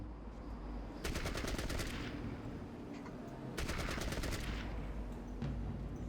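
Two long bursts of rapid automatic gunfire in the game Fallout Tactics, each lasting about a second, over a steady low rumble with no talking.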